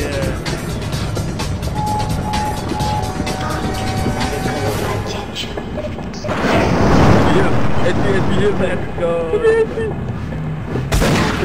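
A large explosion goes off in the co-op shooter Sven Co-op, a loud broad blast that rumbles amid ongoing gunfire and game noise, with excited voices talking over the action.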